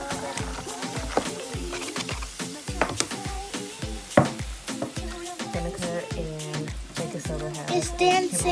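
Popcorn kernels fizz and crackle in vinegar, giving a steady stream of close, soft bubbling pops and clicks with faint stirring, while people talk quietly alongside.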